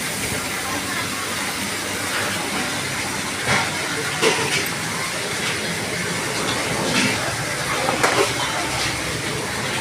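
Liver frying in a pan with turmeric and salt at a curry point, a dense steady sizzling hiss that is close and continuous, with occasional louder spits and stirring clatter.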